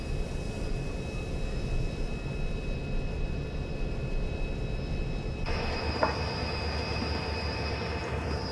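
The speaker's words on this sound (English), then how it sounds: "get this train on up to track speed here" A B&O train rolls along the Mountain Subdivision in Train Simulator 2021, a steady loud rumble of wheels and engine with a sustained whine, joined partway by a higher tone and a brief click.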